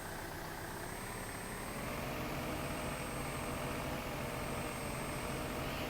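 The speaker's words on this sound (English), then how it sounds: "It sounds like a tractor." A tractor engine in the Farming Simulator 15 video game drones on at a steady, continuous idle, evenly loud and unbroken for the whole stretch.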